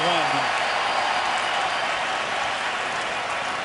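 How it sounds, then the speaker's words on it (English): Football fans at a stadium during a 2011 Lions vs Bears game applaud in a steady, dense wash of clapping and crowd noise that holds for the whole stretch, with a brief voice near the start. "The fans are applauding it."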